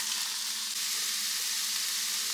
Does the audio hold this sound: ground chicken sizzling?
yes